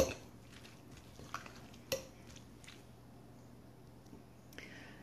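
Tuna salad being mixed with mayonnaise in a bowl gives faint, soft squishing and occasional utensil clicks against the dish, with a couple of sharper taps near the start.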